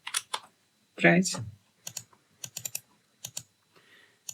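Bursts of computer keyboard typing, close and crisp, come in quick irregular clusters of key clicks while someone enters JavaScript code. A brief spoken word breaks in partway through.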